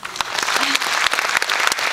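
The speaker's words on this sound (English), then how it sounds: "So please give yourselves a round of applause" An audience at the Miss Chinatown USA 2009 pageant in San Francisco's Palace of Fine Arts applauds, with loud, lively clapping and a few sharp individual claps cutting through the crowd's steady patter.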